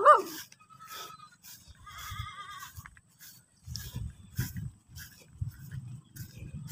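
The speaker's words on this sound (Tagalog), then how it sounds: "Ayun, tumatawag na yung mga kambing." Goats on a farm bleat and call in a few short, faint cries, followed by low shuffling and rustling noises close by, with no talking.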